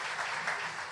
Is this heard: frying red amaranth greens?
no